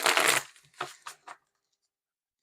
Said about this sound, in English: I'm being told one more shuffle and then we'll get into the read.